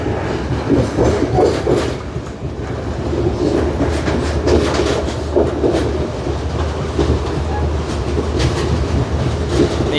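A passenger train in Sri Lanka, bound for Mount Lavinia from Jaffna, rumbling along the rails at steady speed, with rhythmic clatter of wheels over track joints, loud and close.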